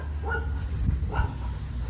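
A dog out on a walk at a playground gives two short, fairly faint barks a little apart, over steady low outdoor rumble.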